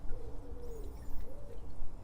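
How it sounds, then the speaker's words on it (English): A pigeon coos softly a few times, low and hooting, in outdoor ambience with a faint distant rumble. "can you hear that pigeon?"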